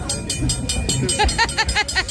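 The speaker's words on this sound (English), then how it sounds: "Looks like the train's about to slow down now." Huckleberry Railroad Polar Express passenger train slowing down, with a steady rhythmic clatter of wheels over rail joints heard up close from on board, along with faint background voices.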